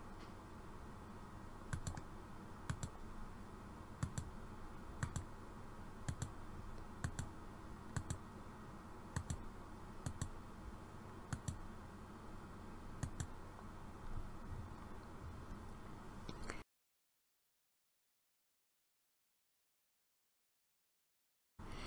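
A computer mouse clicks at a steady, evenly spaced rhythm while lineart is traced into vector graphics, each click crisp and close over a light hum, then everything drops to silence.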